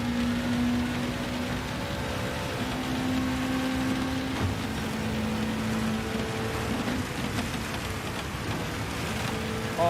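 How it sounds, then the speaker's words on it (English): Heavy rain pouring during a car race in the video game Gran Turismo 7, a dense continuous hiss of falling water with a low engine drone and tonal hum underneath, steady and loud throughout. "Heavy rain up here."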